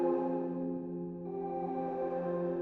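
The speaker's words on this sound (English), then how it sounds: "I'm going to try pitching up the square wave an octave" A steady buzzy square-wave synth tone holds a chord for a techno pad, shifting up an octave to a brighter, higher register partway through, with no talking.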